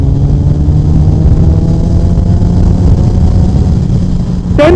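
A Honda CBR 1000RR SP motorcycle engine runs steadily at about 10% throttle, a loud, continuous mid-pitched drone with a faint rise in revs and a brief sharp noise at the very end.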